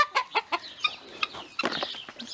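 Chickens cluck near the microphone at morning feeding time on a homestead, a run of short, loud, choppy clucks and squawks from several birds overlapping in quick succession.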